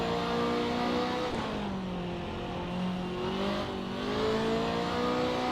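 Mercedes race car from the 1955 Mille Miglia, driven in a racing video game mod, holds a loud, steady engine drone under throttle, its pitch dipping and climbing again as the revs change.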